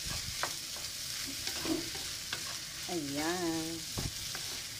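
Fried rice with Chinese pechay stir-fried in a pan: a continuous sizzle with periodic spatula scrapes and taps, and a short spoken word over the cooking midway.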